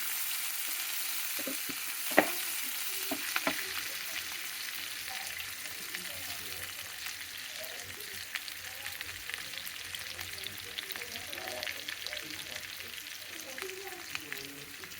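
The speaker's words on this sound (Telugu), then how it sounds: "ఎండుమిరపకాయలు, పచ్చిమిరపకాయలు వేసి," Dried red chillies, green chillies, onions, tempering spices and curry leaves frying in a pan for a yogurt-based brinjal chutney, making a soft, steady sizzle with a few sharp pops and light stirring scrapes.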